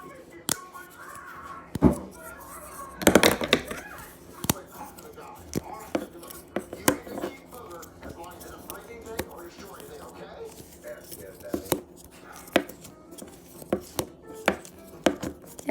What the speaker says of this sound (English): the homemade Simple Dimple